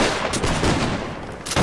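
Gunfire in a video game, a loud, dense burst of blasts with a dull rumbling tail, filling the whole short stretch with another sharp report at the end.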